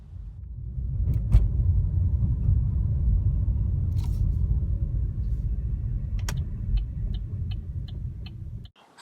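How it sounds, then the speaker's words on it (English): A brand new car drives off a dealership lot with a steady, close engine rumble that lasts about eight seconds. A few sharp clicks break through before the sound cuts off abruptly, with no voices. "You sign the dotted line and drive off the lot with a brand new car."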